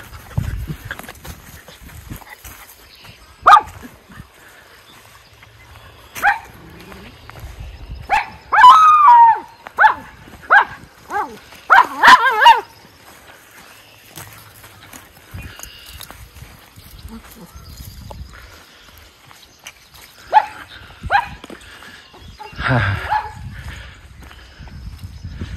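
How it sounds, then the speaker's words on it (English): Miniature schnauzer dogs howl and yip outdoors in early spring snow, wavering calls rising in a few clustered bursts between quieter stretches, with a person talking now and then. "You like to howl."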